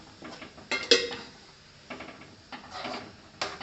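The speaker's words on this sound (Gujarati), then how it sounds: "બધી જ વસ્તુને આપણે સારી રીતે મિક્સ કરી દઈશું" A spoon scraping and clinking against a pan while a Kathiyawadi vagharelo rotlo mixture is stirred, a few separate metallic knocks and scrapes spaced irregularly, with quiet gaps between them.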